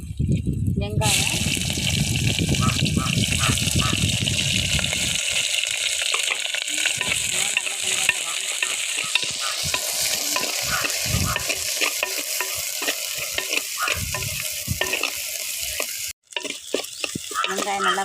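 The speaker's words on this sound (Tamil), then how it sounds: "வெங்காயம் நல்லா வதங்கிடுச்சு" Onions, curry leaves and fenugreek sizzle loudly in hot oil for Tamil sundakkai kulambu, with constant close frying crackle and stirring scrapes, and a voice talks over the cooking.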